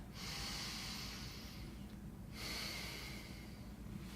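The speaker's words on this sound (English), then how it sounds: "So if I take a nice long breath," A long, deep belly breath drawn in slowly, soft airy hiss close to the microphone, a short pause, then a second airflow, quiet and unaccompanied by talk.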